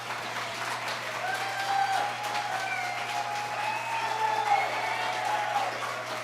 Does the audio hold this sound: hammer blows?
no